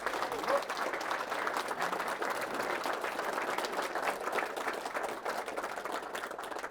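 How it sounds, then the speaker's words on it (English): Audience applause at a ceremony, a sustained wash of clapping from a crowd that holds steady at moderate level throughout. "Give yourself a round of applause."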